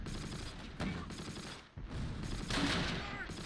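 Gunfire in the Close Combat Last Stand Arnhem war game: continuous fusillade of rifle and machine-gun bursts, dense and steady throughout, with a brief dip in the middle.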